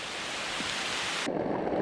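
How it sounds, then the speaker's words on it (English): Steady heavy rain hisses loudly and evenly, close by, with a low rumble that could be distant thunder, while backpacking in Linville Gorge Wilderness, Pisgah National Forest. "I didn't make it to my next camp before the rain started again"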